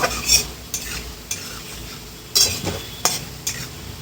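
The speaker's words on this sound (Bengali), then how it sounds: "তো এখানে আমি বেরেস্তাটা করব, ভেজে নেব, ভেজে তুলে নেব।" Sliced onions frying in hot oil for beresta in a home kitchen, a soft steady sizzle broken by several sharp scrapes and clinks of a spatula stirring against the pan, close and clear with no talking.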